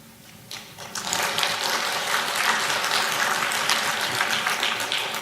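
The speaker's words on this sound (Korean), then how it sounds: "근데 박수는 왜 쳐요?" Church congregation applauding after a sermon, dense clapping that swells in quickly and continues at a steady, close, full level.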